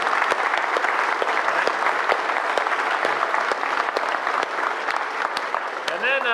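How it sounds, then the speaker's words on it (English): Sailors at a Navy all-hands call led by the Chief of Naval Operations and Master Chief Petty Officer of the Navy give a sustained round of applause, sharp claps standing out in a dense crowd patter, with a voice rising near the end. "So give yourselves a round of applause"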